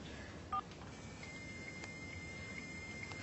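A telephone line is dialled, giving a few short, faint tones over a steady hiss and hum.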